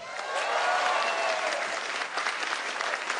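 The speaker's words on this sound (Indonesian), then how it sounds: "Beri tepuk tangan buat Ari." Sustained audience applause at a stand-up comedy show in Cirebon, a dense wash of clapping that stays loud and steady throughout, with faint crowd voices mixed in.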